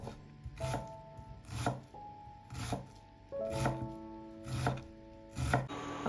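A knife finely chops a large amount of onion on a board, giving six or so short bursts of rapid chopping separated by brief pauses, close and fairly quiet.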